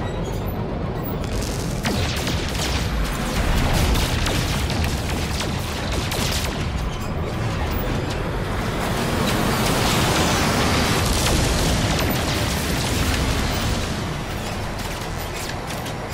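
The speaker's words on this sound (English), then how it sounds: "Well, rocket launcher." Rocket launcher explosions in the No Man's Sky video game come as a dense, continuous barrage of booming blasts, loud and sustained throughout with no talking.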